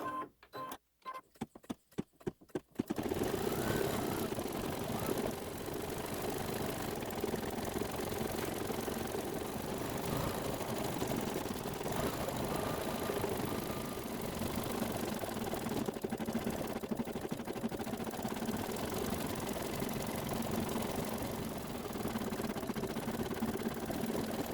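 A sewing machine runs a satin stitch on a Santa's Workshop quilt block, starting with a few short stuttering bursts, then humming in a continuous, steady mechanical drone nearby.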